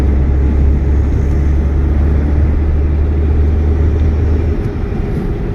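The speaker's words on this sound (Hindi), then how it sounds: "फिफ्थ गियर मैंने फिर से डाल दिया है।" Steady, loud low rumble of a car cruising on a highway after a shift into fifth gear, a constant engine and road drone with no voices.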